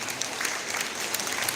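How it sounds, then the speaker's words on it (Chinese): Congregation applauding during a Christmas worship service in a church, a steady wash of clapping throughout, moderately loud and unbroken, with no talk over it. "我们给这个小女孩掌声鼓励鼓励"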